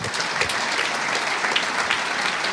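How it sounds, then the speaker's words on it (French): Audience applause at the Pierres d'Or 2011 real estate awards ceremony, a steady sustained clapping from a seated crowd filling the hall at even loudness throughout. "On les applaudit tous les 5."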